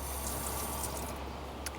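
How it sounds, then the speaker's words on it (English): A small electric water pump in a Ram ProMaster camper van runs at the sink while water streams steadily from the faucet, a soft continuous wash with a faint click near the end. "This is my sink pump, water pump, so I can turn this on and have water."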